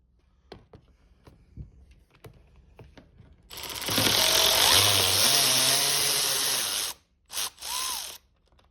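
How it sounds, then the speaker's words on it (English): A hand ratchet clicks in short, scattered bursts while loosening the two seat bolts on a Suzuki DRZ400SM motorcycle, followed by a louder, denser stretch of close mechanical noise. "we're going to start with removing the seat that's held on by 2 bolts"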